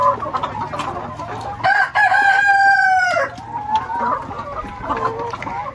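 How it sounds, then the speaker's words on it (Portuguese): Chickens on a small farm cluck while going up to roost in the evening, and a rooster crows loudly and close in the middle. Softer clucking continues before and after the crow. "Já é tão tarde que já tem galinha subindo no gazaio, ó."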